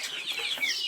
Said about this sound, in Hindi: ये माशाल्लाह मुर्गा भी तैयार है